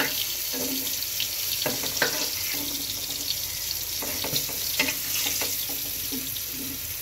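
Slices of ash gourd fry hard in a pan with a steady, even sizzle that runs throughout, broken now and then by brief spits and clicks.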